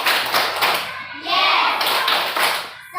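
Children in a classroom run the rhythmic "tepuk konsentrasi" clapping routine, mixing sharp group claps with chanted voices. It is fairly loud and close, with the clapping bursts broken up by stretches of sung chanting.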